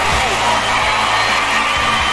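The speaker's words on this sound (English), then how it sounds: "the crowd are acknowledging this athlete" A large stadium crowd at the Tokyo 2020 Olympics cheers and applauds an athlete after a shooting round, a dense, loud, sustained roar with no commentary over it.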